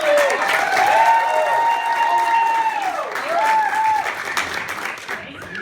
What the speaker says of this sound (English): can I get another big round of applause for Heather?